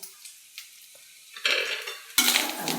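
Coconut and onion roast in a pan for prawn curry: quiet scraping stirs give way to a bright, rising sizzle, with spoon clinks against the pan close by.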